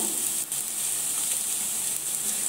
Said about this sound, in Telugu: ఉల్లిపాయ ముక్కలు అయితే వేగుతున్నాయండి